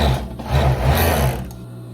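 A sewing machine stitches the armhole finish on a cardigan, running in a fast steady mechanical chatter that briefly slows and pauses before resuming, close and loud with no talk.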